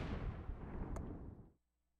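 Attack sound effect from the Risk strategy video game: a loud, dense rumbling battle burst like cannon fire, with a brief sharp crack partway through, cutting off abruptly into silence after about a second and a half.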